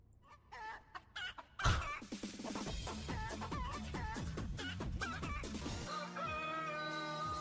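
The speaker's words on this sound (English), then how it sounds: "Why was there chicken noises?" Chicken clucks and a rooster-like crow from a Roblox video game, a busy run of squawking and clucking over a steady game background, loud and close.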